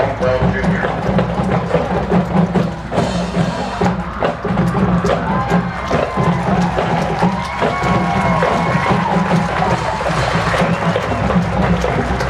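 A crowd at the 45th Annual Lawrence County Band Festival applauds and cheers the Lincoln High School Marching Blue Band, a steady roar of clapping and voices that carries loudly for the whole stretch.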